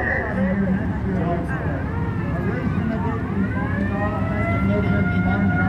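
An old police car's siren wails during a small-town Oklahoma parade in 2021. The rising and falling tones sound at moderate distance over a steady crowd hum and nearby voices, and sweep upward repeatedly.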